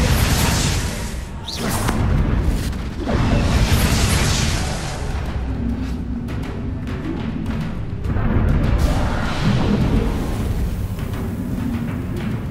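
Bombarda blasting spells explode repeatedly in the Hogwarts Legacy video game, loud booming bursts with whooshes and crackling debris, one sharp blast near the start and rolling rumbles continuing throughout.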